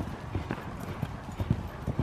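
A horse's hooves clip-clop at an uneven canter during a jumping lesson in an arena, the beats dull and fairly close with faint voices in the background.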